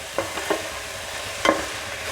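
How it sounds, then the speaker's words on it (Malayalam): Drumstick leaf thoran with grated coconut being stirred in an open pan, with a soft steady sizzle and a few light scrapes of the spoon, close and without talk. "ഇതൊന്ന് തുറന്ന് വെച്ച് കുറച്ച് നേരം ഒന്ന് ഇളക്കിയെടുക്കാം"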